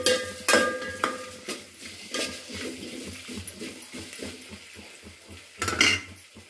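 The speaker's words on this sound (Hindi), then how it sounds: "डालेंगे अदरक लहसुन पेस्ट और इसको अच्छे से हिलाएंगे।" Onions with ginger garlic paste are stirred in a pan, with irregular scraping and clinking of a spoon against metal over a soft sizzle, including a few sharper knocks.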